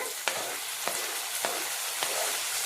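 Tomatoes go into browned onions and curry leaves frying in a pan, a steady close sizzle broken by four evenly spaced scraping stir strokes, no voices.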